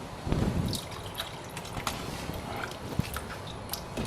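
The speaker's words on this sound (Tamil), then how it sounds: "ஸோ தண்ணி இன்னும் சேர்க்கணுங்க." Water poured into a pot of butter bean gravy gives a light trickle with small splashes and a few faint clinks, close and fairly quiet.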